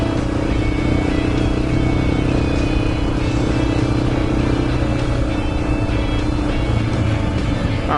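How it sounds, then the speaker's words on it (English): A 2004 Honda XR400R dirt bike riding off, a loud, continuous engine rumble up close, steady throughout with no clear gear changes. "Don't roll on too much torque and speed, Eric."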